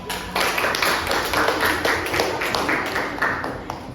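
Classmates in a teaching-practice lesson clap for group 3's analysis, a busy, steady patter of hand claps from a small group that carries on throughout, fairly close and even in level.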